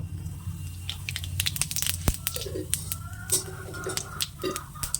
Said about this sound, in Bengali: এবার আমি দেব জিরে ফোড়ন এই যে জিরে ফোড়ন দেব